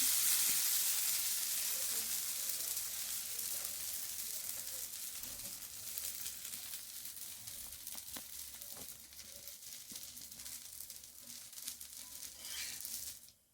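Dosa batter sizzling and frying on a hot pan, a steady hissing crackle with faint scraping and stirring, close and continuous throughout with no talk.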